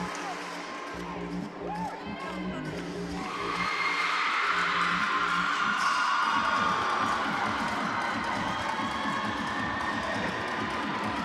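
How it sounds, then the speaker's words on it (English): A crowd cheers at a college gymnastics meet between WMU and MSU. A broad, steady roar swells after a few seconds and holds, loud and continuous in the background. "There's some cheering in the background there."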